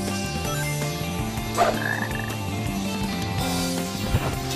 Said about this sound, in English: Hear a croak?